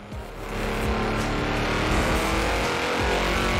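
A Ford Shelby 1000 tuned for top speed in the video game Forza Horizon 4, its engine roaring loud and steady under hard acceleration with a dense, continuous growl throughout.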